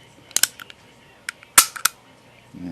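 Dry firing an empty Beretta 21A .25 Auto pistol, with close, crisp metallic clicks from the hammer and action, some in quick pairs, separated by short pauses.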